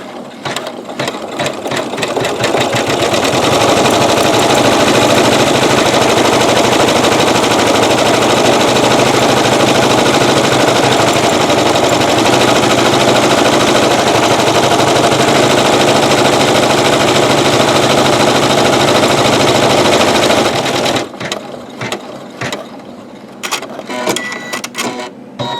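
An embroidery machine stitching lace with metallic thread runs in a loud, steady mechanical whir and rapid needle clatter for about twenty seconds, then slows into a few scattered clicks and knocks.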